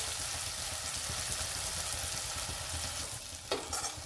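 Chopped onion and tomato sautéing in a pan for broccoli bhaji, with a continuous close sizzle and frequent stirring scrapes, and a sharper clatter near the end, with no voices.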